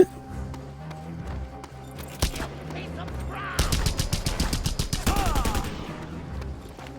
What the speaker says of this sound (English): My gun shoots faster.